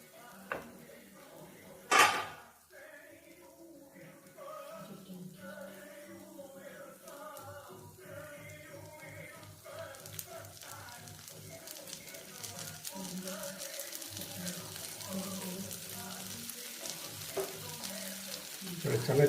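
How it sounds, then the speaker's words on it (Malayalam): Jackfruit seeds fry in coconut oil in a pan, a soft steady sizzle that swells over time, with a sharp clatter early on and scattered spoon and pan clinks throughout. "ഇനി നമുക്കിതിൽ വെളിച്ചെണ്ണ ഒഴിച്ചു കൊടുക്കാം."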